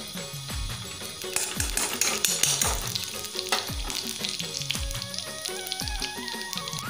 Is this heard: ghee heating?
yes